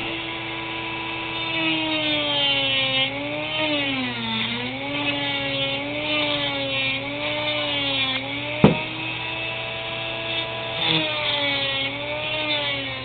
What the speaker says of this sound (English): if you're holding this at the wrong angle, you're going to be gouging the throttle plate. The right angle will cause it to just buff it really nicely